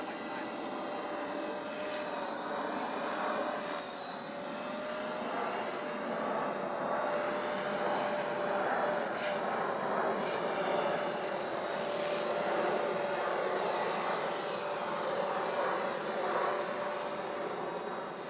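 A Belt CP V2 RC helicopter flies nearby with a continuous high-pitched rotor and motor whine, holding a steady tone with slight swells over the whole stretch and no talk.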